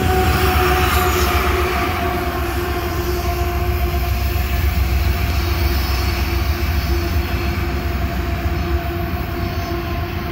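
A loaded coal train rolls past with a rear distributed-power locomotive pushing at the end, making a loud, steady rumble of heavy cars with faint wheel squeal for the whole stretch and no voices.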